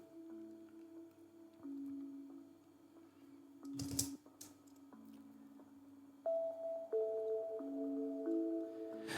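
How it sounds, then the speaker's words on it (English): Handpan fading in softly, its sustained tones quiet and distant at first, with a brief noisy burst midway before brighter, louder notes step in over a low drone. "So we have this handpan"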